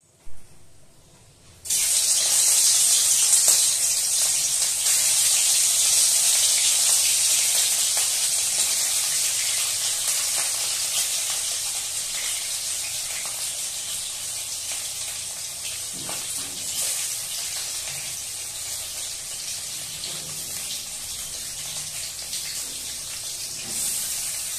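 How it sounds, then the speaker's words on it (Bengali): Pieces of fresh catla fish from a village pond hit hot oil in a kadai, and a loud sizzling hiss starts suddenly and carries on strongly, slowly easing over time. "কড়ার মধ্যে তেল গরম হয়ে গেছে, এবার আমি মাছগুলো একে একে দিয়ে দেব।"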